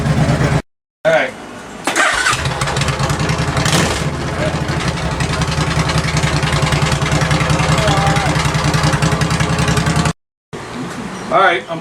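A 2005 Suzuki C90 motorcycle engine running at a steady idle after starting, a loud continuous close-up drone cut by brief silences, with a person speaking over it.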